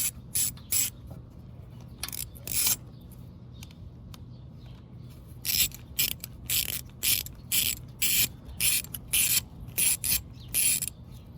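A ratchet wrench works a 10mm bolt loose during a transmission shifter seal replacement on a Honda GL1500 Goldwing. Short bursts of quick clicking stop and start, alone against a quiet background.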